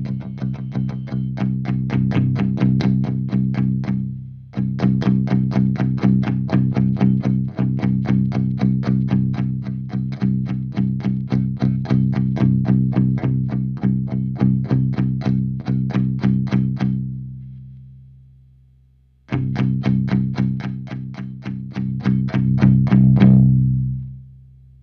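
Electric guitar through a Marshall JVM 410H amp on the clean channel with bass-heavy tone, steady strummed chords in a rhythmic pattern, loud and close, pausing briefly before resuming and ringing out.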